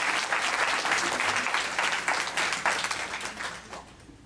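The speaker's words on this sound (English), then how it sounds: "One more round of applause for them." A crowd at a devotional katha gathering gives a round of applause, a loud dense burst of clapping that gradually tapers off toward the end.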